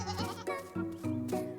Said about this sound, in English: Can I pet the goats?